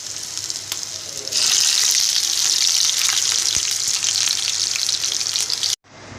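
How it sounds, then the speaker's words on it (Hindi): Gola kababs fry in a pan with a loud, steady hiss of oil that starts softly and swells after a moment, continuing unbroken until an abrupt cut near the end. "अब मैं इनको फ्राई करने जा रही हूँ।"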